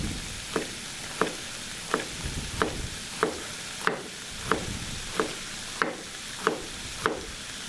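Deer chili with finely cut jalapeno stirred in a pan, with soft continuous sizzling and about a dozen evenly spaced scraping strokes of the spoon, close and fairly quiet, with no talking.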